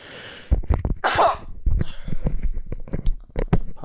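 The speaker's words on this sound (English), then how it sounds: "He keeps sneezing a lot" A man sneezes sharply, one loud burst amid light tapping and shuffling sounds close by, with no talk over it.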